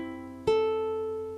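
Open strings of a ukulele plucked in turn by thumb, index, middle and ring fingers, a single bright chord-like ring that sustains and slowly decays, close and clear with no talking.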